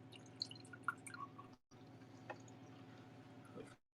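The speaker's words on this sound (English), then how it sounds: "I'm going to pour in the orange juice just like that." Fresh orange juice is poured into a Jack Daniel's glass, giving faint trickling and dripping splashes, then a brief pause and a softer continued pour that stops abruptly.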